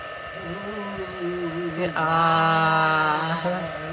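A heat gun used for card embossing starts up with a steady blowing rush and a motor whine that jumps louder about halfway through, then holds close and continuous.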